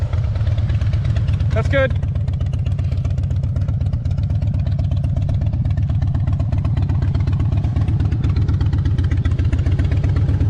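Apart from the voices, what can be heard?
Harley motorcycle engine idling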